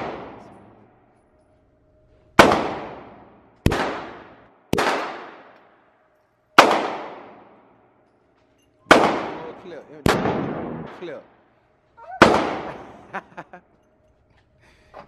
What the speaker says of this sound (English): Don't put your hand on the trigger unless you wanna shoot it.